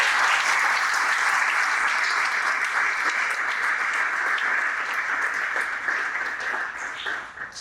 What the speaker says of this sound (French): Je vous invite donc à nous applaudir tous